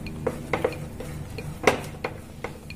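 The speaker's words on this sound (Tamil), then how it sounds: "இது கொஞ்ச நேரம் நல்லா கிண்டிட்டே இருக்கலாம்" Moong dal halwa stirred in a pan, a spoon scraping and tapping the metal in irregular knocks every half second or so, with a soft cooking hiss underneath.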